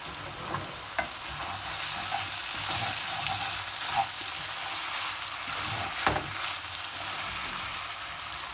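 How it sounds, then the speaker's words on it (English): Food frying in a pan crackles with a continuous close sizzle while being stirred, with occasional soft scrapes and knocks of the spoon. There are no voices. "I'll give that a quick stir."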